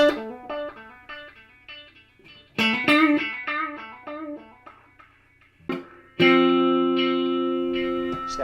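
Electric guitar played through a filtered delay effect on a Positive Grid Spark amp, with plucked notes trailing into repeating echoes, then a final sustained chord ringing out loudly and fading slowly.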